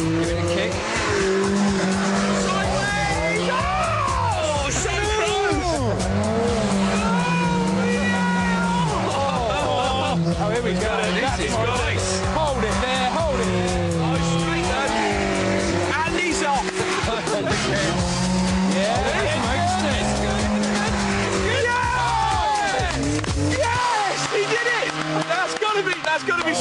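A Bedford Rascal van drifts around Bovingdon Raceway, its engine straining and tires squealing in long, loud, wavering howls throughout, with excited commentary spoken over the top.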